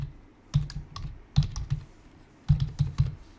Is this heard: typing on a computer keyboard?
yes